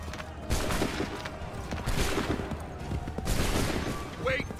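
A musket volley fired by a line of soldiers in Assassin's Creed III, with several broad bursts of gunfire crackling close and loud over a continuous battlefield din, while shouted commands sound between the shots.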